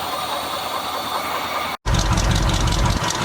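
A 1976 GMC Sprint's engine runs and is shifted into gear, giving a loud steady hiss and rumble, then after a short cut a heavier low, rumbling drone, close by.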